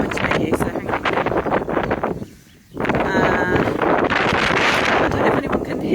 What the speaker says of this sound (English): it's incredibly windy today